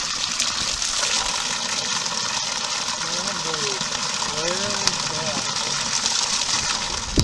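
Spring water gushing steadily from a pipe at a spring while containers are filled on a winter camping trip, a constant loud rushing flow close by with brief faint voices in the background.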